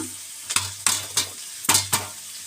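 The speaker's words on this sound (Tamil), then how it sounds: "வெங்காயம் வதக்கிட்டே இருக்குது" Onions sauté in a pan with a low steady sizzle, broken by about six sharp, close scraping stirs of a spoon across the pan at an uneven rhythm.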